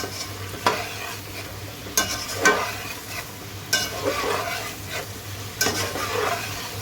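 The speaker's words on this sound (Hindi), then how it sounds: "अब इसको मैं 3 से 4 मिनट के लिए इसके अंदर भून दूँगी, लो टू मीडियम फ्लेम पे।" Steady sizzling of chicken frying in a pot over a low to medium flame, with repeated scraping and stirring strokes against the metal, close and continuous, no voices.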